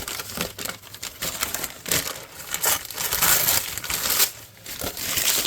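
Packing paper being crumpled by hand for a craft project, continuous crinkling and crushing bursts close up, rising and falling over several seconds.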